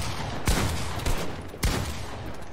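Three sharp gunshots from a Fortnite Box PvP match, evenly spaced about half a second apart and loud against a steady background of game noise.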